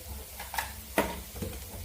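Chopped onion sautéing in hot tempering oil with green chillies, a soft sizzle broken by a few sharp scraping stirs of the spoon against the pan, close and fairly quiet.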